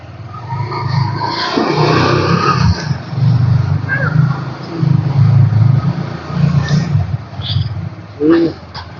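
An auto rickshaw engine runs with a steady low rumble throughout, loud and close, with people talking over it.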